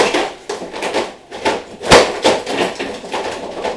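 Bumper being pulled off an Audi 80/90: a series of knocks, thuds and scraping rattles of plastic and metal, loud and close, with one sharp bang near the middle.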